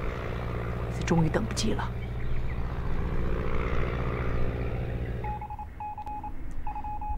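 In a wartime drama, enemy Japanese aircraft approach overhead with a steady droning propeller-engine hum. A brief burst of speech comes early, and a few short electronic beeps sound near the end.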